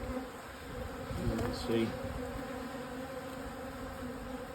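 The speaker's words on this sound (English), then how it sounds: "There's plenty of bees in here, which is a good sign." A steady, dense buzzing of many bees in an abandoned, neglected hive with rotten frames, close and continuous, with a brief spoken phrase partway through.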